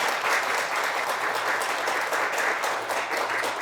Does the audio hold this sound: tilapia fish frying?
no